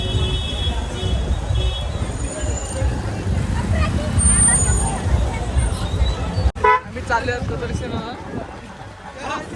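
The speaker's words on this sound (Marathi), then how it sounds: "ट्रॅफिक बघू शकता फुल ट्रॅफिक आहे" Heavy road traffic crowds the approach to a hilltop temple, with a steady rumble of engines, repeated car and bus horn toots and crowd babble, plus people talking nearby.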